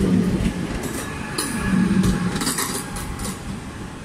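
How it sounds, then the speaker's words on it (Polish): A Sprinter passenger train on the Gliwice route pulls out of a station, its wheels rumbling close and steady with clickety-clack beats and faint squeals. "Odjeżdża pociąg Sprinter Kiczora relacji Gliwice z Wardoń."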